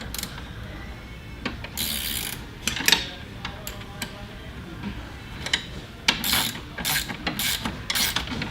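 A ratchet tightening a nut on the underside of a chair seat slide, giving quick bursts of clicking ratchet strokes with short pauses between them, close and fairly loud.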